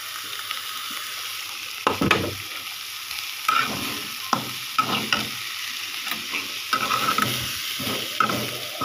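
Prawns and onion frying in oil in a pan, a steady sizzle broken by repeated scraping stirs, with no talk.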